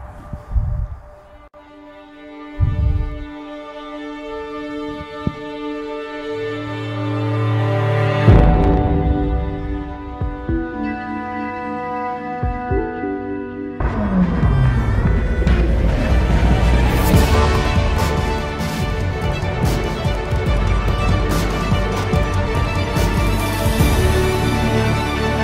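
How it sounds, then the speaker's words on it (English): Music composed in real time from Bentley car data and played by live musicians shifts from sparse sustained tones to a dense, loud, layered texture, with no talking. "What you're hearing is being composed by Bentley real time."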